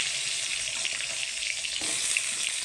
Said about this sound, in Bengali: এই অল্প তেলের মধ্যেই লাল লাল করে আমি ভেজে নেব।